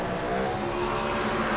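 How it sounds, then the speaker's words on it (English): A stock truck in an iRacing NASCAR Truck Series race at Daytona does burnouts, a continuous loud engine roar with tire squeal and skidding rasp held steady and close throughout. "Walker will do burnouts in his face"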